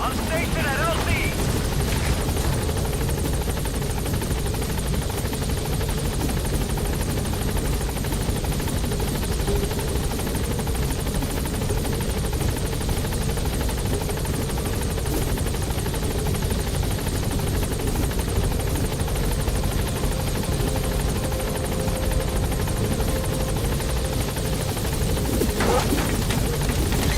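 The Pequod helicopter from Metal Gear Solid 5 arriving at a landing zone, a loud continuous rotor and engine drone that holds steady throughout, with radio-style talk over it.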